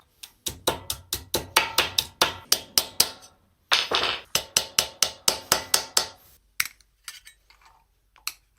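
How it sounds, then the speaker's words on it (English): A chisel chips metal bits off a workpiece being prepared for welding, a fast run of loud, sharp metallic taps in quick rhythmic bursts, a brief pause, another burst, then scattered lighter knocks. "I'm just going to use a chisel now to get rid of this bit and that bit"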